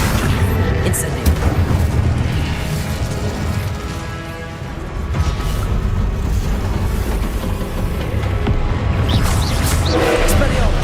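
Fire spell Incendio cast in the video game Hogwarts Legacy, heard as loud, dense booming bursts within continuous combat effects and rumbling that stay steady through the scene.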